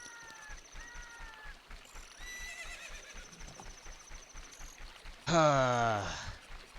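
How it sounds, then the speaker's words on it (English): Epona the horse in Zelda: Ocarina of Time gives a loud, close whinny near the end, after several softer chirping game sounds over a pulsing rhythmic game backdrop. "I've been hearing Epona and horse noises the entire time."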